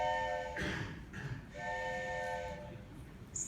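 At a school Christmas performance, a train pulls away, its steam whistle sounding in a couple of long tones over a low rumbling roll.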